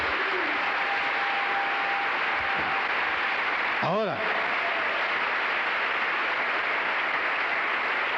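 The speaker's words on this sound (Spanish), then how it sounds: "Un aplauso al Señor." A church congregation applauds in dense, steady clapping that fills the whole stretch, with a voice briefly speaking over it.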